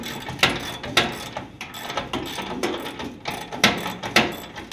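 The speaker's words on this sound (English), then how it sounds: "surprisingly these bolts are unbolting without snapping off" Bolts being loosened from the inner fender of a 1966 Ford Galaxie 500 convertible, heard as a near series of ratcheting clicks and metallic knocks with irregular louder snaps, and no talk.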